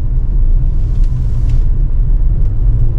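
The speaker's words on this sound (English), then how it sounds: "Nice, naturally aspirated power out of this V6. Pulls nicely." Naturally aspirated 3.5-litre V6 in a Nissan Murano SUV pulling under acceleration, a steady loud low rumble heard from inside the cabin with no talking.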